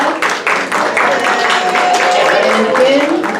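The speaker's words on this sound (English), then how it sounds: "We want to again give all the recipients a wonderful round of applause." A room full of people gives a sustained round of applause for student award recipients at the close of a campus awards ceremony, the clapping dense and steady throughout with some voices mixed in.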